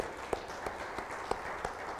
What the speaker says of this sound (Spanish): Démosle un buen aplauso a Cristo.